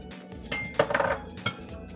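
A metal lid clatters and clinks onto a cooking pan holding eggplant with pork, a few sharp close metallic knocks in quick succession, with no talking.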